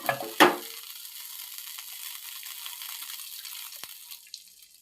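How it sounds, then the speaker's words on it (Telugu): A little oil crackles and sizzles softly in a pan, with a brief louder burst at the start, then a thin steady hiss and occasional faint pops. "ఇప్పుడు మనం అదే పెనంలో ఆయిల్ కొద్దిగా వేసుకొని"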